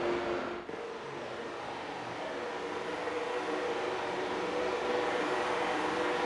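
Race cars in a Carolina Crown Series race speed down the front stretch in a continuous loud roar of engines that swells and sustains, with a brief dip near the start.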